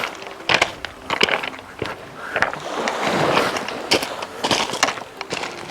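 Footsteps crunch over beach pebbles in an irregular walking rhythm, close and fairly loud, with sharp clicks of stones knocking together and faint sea wash behind.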